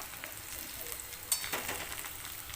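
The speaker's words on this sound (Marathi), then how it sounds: "व्यवस्थित चांगलं परतून घ्यायचं आहे एक चमचा हळद घालायचा आहे" Ridge gourd bhaji sautéing in a pan with turmeric, a soft continuous sizzle with a few light clinks and stirring scrapes, close and without talk.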